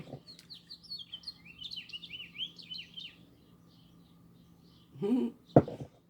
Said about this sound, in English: there's a purple finch outside my window